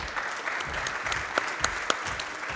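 At a speedrunning marathon event, the audience gives a round of applause, steady dense clapping heard across the room with a few sharper individual claps standing out.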